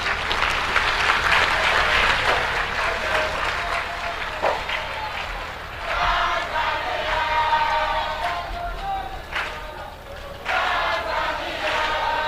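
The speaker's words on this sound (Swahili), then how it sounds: "Nisikie makofi na vigelegele tena" A university building inauguration audience bursting into applause mixed with high ululation, loud and sustained with swells and a brief dip before rising again, crowd-wide and near.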